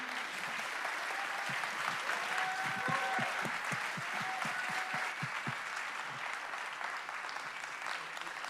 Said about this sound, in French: C'est à vous les applaudissements.